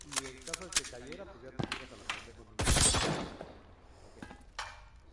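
Blind-fire gunshots crack in a video game as a short, loud volley of shots rising over ongoing commentary, with scattered sharper shots before and after.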